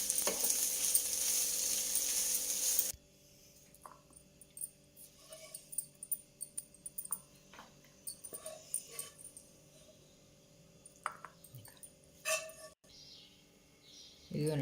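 Chicken fry sizzling in a pan and being stirred, a loud hiss at the start dropping to quieter crackle with scattered scraping stirs, faint voices and a dog whimpering nearby.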